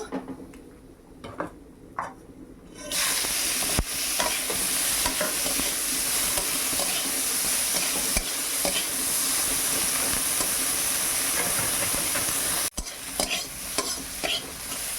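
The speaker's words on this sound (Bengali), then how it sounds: "এবার আমি চিংড়িগুলো ভেজে নেব" Red prawns fry in a pan with a steady, loud, close sizzle that starts abruptly after a quiet moment, with a utensil stirring and scraping throughout.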